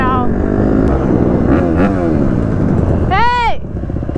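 A motorcycle labors through deep sand on a mountainside trail, its engine droning loudly and continuously with a rising, revving whine near the end, while a rider talks over it.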